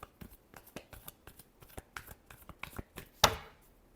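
Tarot cards being shuffled by hand, a rapid series of close, crisp riffling flicks building to one louder final snap of the deck near the end, with no talking.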